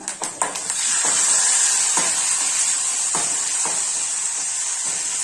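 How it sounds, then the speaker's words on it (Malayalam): Curry leaves and dried red chillies hit hot oil after mustard seeds pop for a mango pulisheri tempering, giving a few sharp crackling pops at the start and then a loud, steady sizzle that runs to the end. "കടുക് ഒന്ന് പൊട്ടി കഴിയുമ്പോൾ കറിവേപ്പില, ലാസ്റ്റ് വറ്റൽമുളക് 3 വറ്റൽമുളകുണ്ട്."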